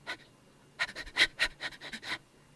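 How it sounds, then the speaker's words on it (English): A creature in a horror video game pants in short, rapid, breathy bursts, soft and close, about a dozen quick breaths in a row. "And it's just this very subtle panting sound."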